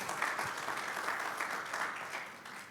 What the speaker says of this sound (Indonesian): Yang setuju ayo berikan tepuk tangan